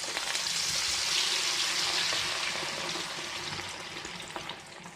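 Cabbage mixture frying in hot oil over medium flame, a steady, bright hissing sizzle that stays loud and close, easing slightly toward the end.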